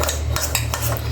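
A spoon stirring a mixture dosed with a couple of lemon drops in a bowl, giving close, repeated scraping and light clinking strokes of metal against the dish.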